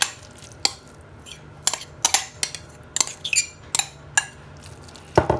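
A spoon scrapes and clinks against a bowl while cooled mashed potatoes are stirred into a tuna mixture, giving sharp, irregular metallic taps and scrapes close up over a quiet background.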